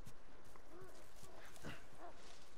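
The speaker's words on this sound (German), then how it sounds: "Hier sind wieder Hunde." Dogs barking in the video game The Last of Us Remastered, a few sharp barks and yips at moderate distance mixed with other game noises and some scattered clatter.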